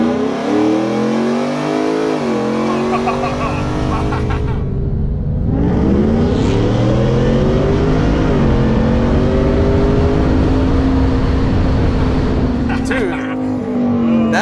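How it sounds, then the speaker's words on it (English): A Ford F-150 pickup with a 3.0L engine and a Stage 2 Whipple supercharger accelerates hard, its loud, close engine roar rising through gears with brief shift breaks and supercharger whine. "That's a fast truck, dude, and it's loud."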